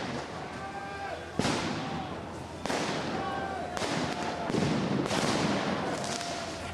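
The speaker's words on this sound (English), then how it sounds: "Tear gas keeps being shot at the protesters." Several loud bursts of a broad hissing whoosh as tear gas canisters are fired at a Paris Yellow Vest protest, each starting abruptly and lingering, amid crowd noise and shouting voices.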